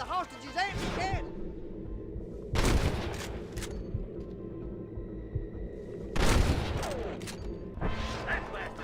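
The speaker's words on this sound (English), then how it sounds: "Let's get as close as we can before opening fire." Gunfire rings out in the Red Dead Redemption video game: two loud, sharp bursts of shots several seconds apart, set against a steady background of game sound and talking.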